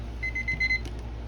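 A kitchen timer alarm beeps in a quick run of high electronic tones, close and fairly loud, over a low background hum.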